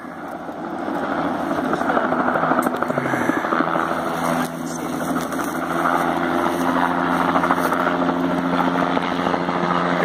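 A helicopter's steady rotor chop and engine drone hold constant throughout over a forest fire, loud and fairly close, with no talking.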